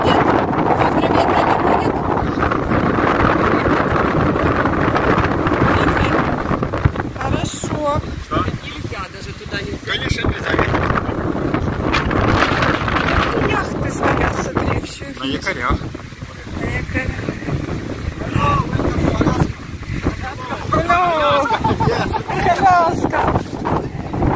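Sandstorm wind at a hotel in Hurghada, Egypt, roaring steadily and loudly across the microphone throughout, with voices talking under the constant buffeting gusts.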